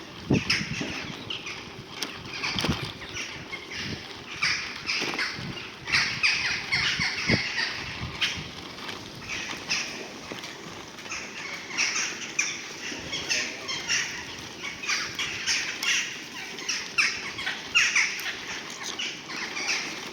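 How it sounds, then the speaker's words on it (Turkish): Crows caw repeatedly and raucously on a dark, empty early winter morning street, harsh calls overlapping at varying distances with some wing flaps, and no talking in between. "her zamanki gibi yine kargalar senfoni yapıyor bakın"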